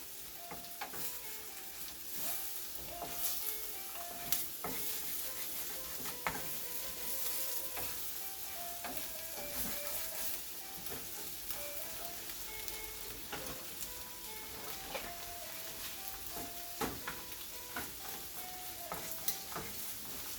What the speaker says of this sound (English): you can mix the egg slowly, gently